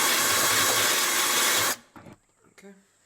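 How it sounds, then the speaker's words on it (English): A wire brush on the end of a drill scrubs a bolt on a Holden Jackaroo 3.5L petrol engine, a loud harsh whirring hiss for under two seconds that cuts off abruptly, followed by faint knocks and a brief voice. "I've got just a wire brush that goes on the end of my drill here"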